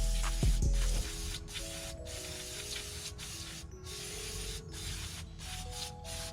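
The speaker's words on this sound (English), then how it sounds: "I just use the brake cleaner to spray it off basically" An aerosol can of brake cleaner hisses in a steady, continuous spray close by on an LTZ400 chain, with a short clatter at the start and brief pauses in the stream.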